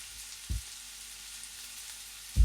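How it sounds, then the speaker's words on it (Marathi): Chopped onion hits hot oil in a pressure cooker, giving a steady, close sizzling hiss that runs throughout, with a soft thump near the start and another at the end. "तेलही छान गरम झालं की यामध्ये आपण बारीक कट करून घेतलेला कांदा घालायचा आहे."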